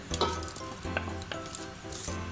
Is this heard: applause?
no